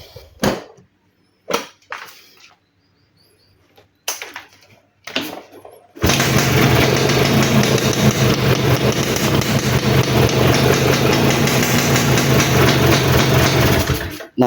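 A Yamaha Alfa motorcycle fitted with a new CDI gives a few short clicks and blips, then fires up and runs steadily at a loud, even idle close by for the second half, with no talk over it.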